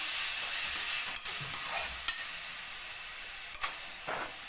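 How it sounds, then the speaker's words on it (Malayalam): Onions sauté with salt in a pan for an egg curry, giving a steady soft sizzle and hiss broken by a few brief stirring scrapes, close and alone. "ഉള്ളി വഴറ്റണമെന്നുണ്ടെങ്കിൽ ഉപ്പിട്ട് തന്നെ കൊടുക്കണം"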